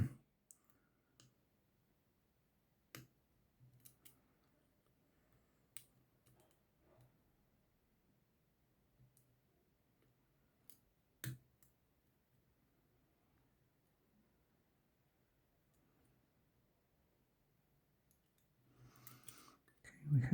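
A lock pick works inside a Multilock classic padlock, giving faint, sparse, sharp clicks at irregular intervals against near silence, then a brief louder rustle of handling at the end.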